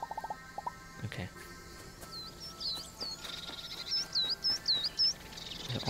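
Birds chirping in the video game Alba: A Wildlife Adventure, with repeated short high tweets over a faint outdoor ambience of insects and distant sounds, moderately quiet.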